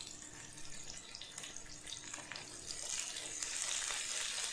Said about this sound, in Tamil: சின்ன வெங்காயத்தை போட்டுட்டு அப்புறம் வெள்ளைப்பூண்டு அதையும் சேர்த்துட்டு வதக்க ஆரம்பிச்சிடுவோம்